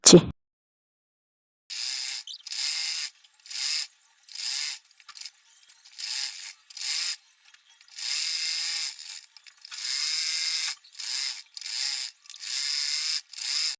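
A sewing machine stitches the leg seams of palazzo trousers in repeated bursts of rapid, whirring mechanical clatter separated by short pauses, close and clear with no talking.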